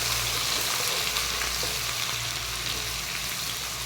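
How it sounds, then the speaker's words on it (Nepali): Garlic and ginger fry with chili in a pan for a tomato-free chicken curry, giving a loud, dense and continuous sizzle with no voices. "त्यसपछि लसुन प्लस अदुवाको सबै हालेर हामीले पकाउँछौँ।"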